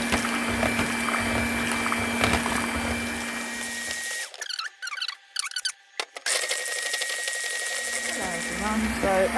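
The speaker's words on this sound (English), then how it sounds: "So all we're going to do is whisk the cream up." An electric hand mixer or whisk beats cream into butter with a steady high-pitched motor whine, stopping briefly in the middle amid clatter and clicks before starting up again; a voice speaks over part of it.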